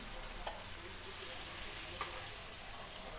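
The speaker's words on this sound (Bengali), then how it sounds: "আমি প্রথমেই আস্তে আস্তে মাথাগুলোকেই দেখো এভাবে ভেজে নিচ্ছি" Fish heads frying slowly in hot oil for a Bengali murighonto make a faint, even sizzling hiss, with a couple of soft ticks from the pan.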